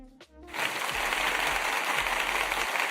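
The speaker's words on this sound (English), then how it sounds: "I had to give myself some applause, y'all." Applause bursts in after a brief tonal sound, then holds as a dense, steady wash of many clapping hands at a loud level until the end.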